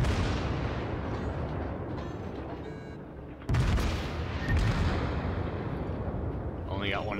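Heavy naval gun salvos from the battleship Kongo in World of Warships, a booming blast that rolls into a long rumbling decay, followed by a second sharp report and its echo, with someone talking quietly over them.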